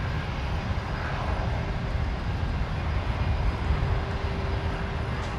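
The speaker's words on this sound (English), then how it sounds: "Where's this Dash 8 come from, Matt?" A QantasLink Dash 8 turboprop arriving at Brisbane Airport from Port Macquarie, landing on runway 19 left, gives a steady broadband rumble with low engine drone that holds at a constant level throughout, with no talk.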